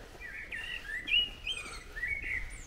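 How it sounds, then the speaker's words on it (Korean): Several birds chirp and trill in clear, high whistled phrases against a faint outdoor background in the small town of Dinkelsbühl, Germany, fairly soft and unhurried. "아우 새소리도 청아하네."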